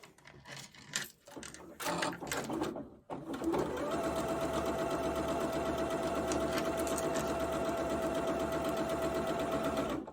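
Sewing machine chain stitching jelly roll quilt strips together with a 1/4 inch foot, a steady continuous motor whir running close and loud for most of the clip after some brief handling sounds at the start.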